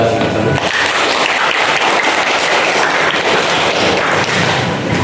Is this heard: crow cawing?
no